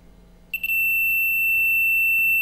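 A single sustained high-pitched continuity tester beep, testing a button's pins, starts after a brief click and holds steadily to the end, loud and close.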